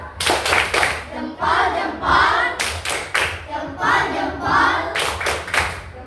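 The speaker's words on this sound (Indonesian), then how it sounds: "Beri dia tepuk jempol." Children in a class perform a patterned thumb clap, groups of sharp hand claps and thumps in a repeated rhythm, alternating with brief chanting voices between the bursts.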